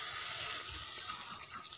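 Water is poured into a hot cooking pan with fried vegetables, producing a steady close hissing splash that stays fairly faint and uniform for a couple of seconds.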